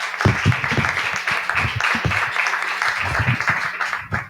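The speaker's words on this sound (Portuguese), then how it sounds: "Bom, peço palmas para o Felipe." An audience breaks into applause at a talk on changing cities, a moderate burst of uneven clapping close by with some voices mixed in.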